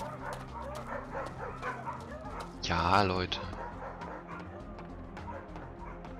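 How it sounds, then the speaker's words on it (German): Dogs bark and yip in the fantasy video game Two Worlds, a short burst of excited canine cries mixed with game sounds while someone speaks German over the top. "Gott, Hunde."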